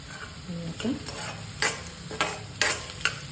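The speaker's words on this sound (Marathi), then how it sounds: "कांदा छान लालसर होईपर्यंत मी हे परतून घेते" Onion fries in a pan on medium heat with a steady sizzle, while a spoon scrapes and stirs in several distinct close strokes.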